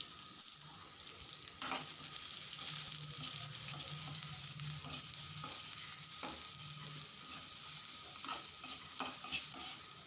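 Chopped large onions sautéing in a pan for goat boti fry, a steady sizzle broken by repeated scraping stirs of a spoon, close and clear with no voices.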